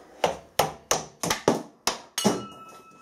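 A hammer strikes a metal workpiece set on two parallels in a milling machine, giving seven sharp, evenly spaced metallic blows up close, with the last one leaving a faint ringing tone.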